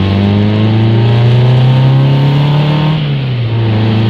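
A 1998 Nissan Pulsar SSS with a non-turbo SR20 engine accelerates hard on a test drive, its engine note rising loud and close, then dropping sharply as the throttle lifts near the end.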